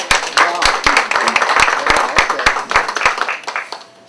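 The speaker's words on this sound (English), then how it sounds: "A big round of applause for our panel." Audience applauding a panel at a community summit, a burst of many hands clapping close and loud, fading slightly toward the end.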